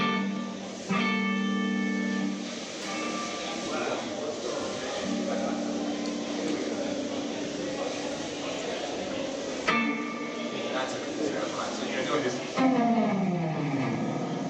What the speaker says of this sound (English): So if I turn this spring reverb on